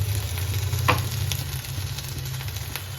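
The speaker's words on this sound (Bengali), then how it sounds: "এবার আবার ভালো করে একটু নেড়ে দিচ্ছি।" Eggplant fritter mixture with salt, chili, turmeric, cumin powder and tomato ketchup frying in a pan, a steady close sizzle with a brief utensil scrape of stirring, no talk.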